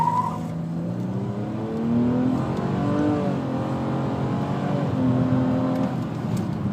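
A 2012 Nissan Maxima with a CVT accelerates hard in sport mode, its engine drone rising steadily in pitch with a few stepped, shift-like rises, heard from inside the cabin, no voices.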